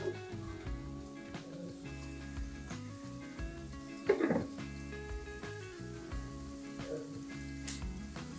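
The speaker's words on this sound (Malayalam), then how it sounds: "ഇതെല്ലാം നല്ലപോലെ ഒന്ന് വഴറ്റിയെടുക്കേ" Onions sautéing in a pan for an okra curry, a soft continuous sizzle with occasional spatula stirs and scrapes, fairly quiet and steady, with no talking.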